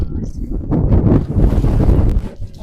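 Strong wind at a campsite in Cappadocia buffets the microphone in heavy, rumbling gusts that rise and fall throughout.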